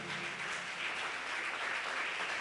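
A church congregation applauds during a sermon, a dense, sustained roar of many hands clapping together, steady and moderately loud for the whole stretch with no voices clear above it.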